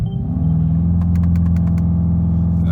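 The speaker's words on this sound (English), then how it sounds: "I'll hold the accelerator and the brake, and I should be able to throttle up a little bit" A car engine revs steadily with the accelerator and brake held together, a loud, sustained low rumble that rises slightly at the start and holds, with a few faint clicks near the middle.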